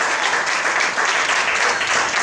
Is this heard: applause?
yes